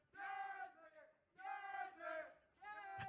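A crowd cheers at a Valorant esports match between KRU and LOUD in the VCT Americas stage, with three loud surges of roaring voices separated by short dips, heard distantly and alone.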